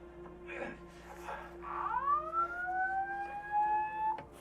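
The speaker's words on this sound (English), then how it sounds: "Someone just pull the fire alarm." A fire alarm sounds inside a movie theater, a steady electronic tone with rising wailing sweeps, moderately loud and continuous, with a few brief voices in the background.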